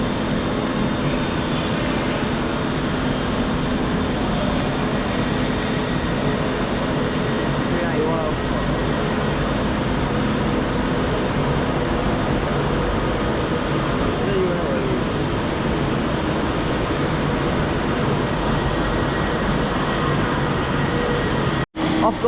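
Two trains bound for Blackpool pull into Preston station at once, a steady rumbling, droning rail noise that stays loud and continuous throughout, with a brief sharp knock near the end.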